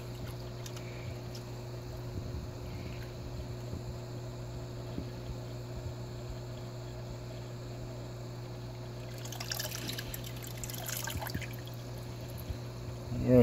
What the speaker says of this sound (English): let's get back over to the tank and we'll pour this in